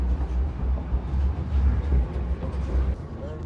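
A heavy Silesian tram rolls past nearby in Ruda Śląska, with steady low-frequency clatter and rumble filling the whole few seconds.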